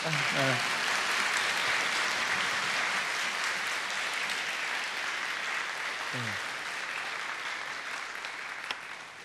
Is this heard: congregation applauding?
yes